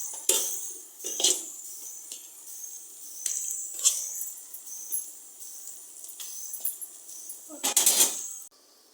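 Rice flour is mixed with boiled water in a metal vessel, giving repeated clinks, scrapes and soft hisses at an uneven pace, close and moderately loud.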